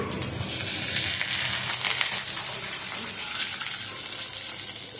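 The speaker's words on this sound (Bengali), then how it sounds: "ডিমটা ভাজতে বসিয়েছি" An egg frying in a pan, a dense, loud, steady sizzle and crackle throughout with no talking.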